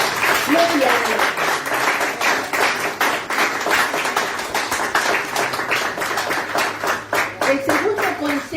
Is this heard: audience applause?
yes